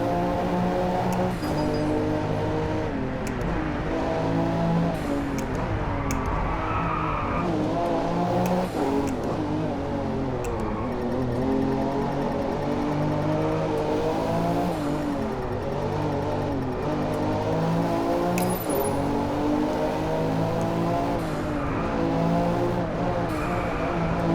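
A race car's engine revs and shifts continuously in the DriveClub video game on PS4, with rising and falling harmonic whine and occasional tire squeals, loud and steady with no talking.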